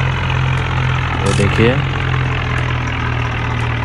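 A Jondher tractor engine idles in a tractor simulator video game, a steady low drone running throughout while someone talks briefly over it.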